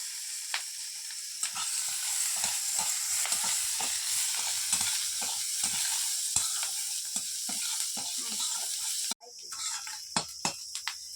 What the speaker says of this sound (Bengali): প্রথমে 5 ফোড়ন আর শুকনো লঙ্কা দিলাম, এরপরে পেঁয়াজ কুচি